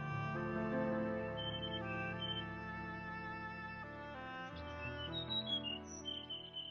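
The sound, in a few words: bird chirping, story sound effect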